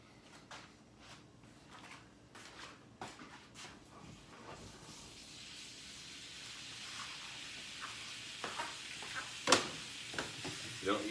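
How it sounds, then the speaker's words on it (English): Sausages sizzle as they brown in a pan, a soft frying hiss that builds gradually, broken by clattering knocks and scrapes of handling nearby. "I'm just going to put these in the pan to brown"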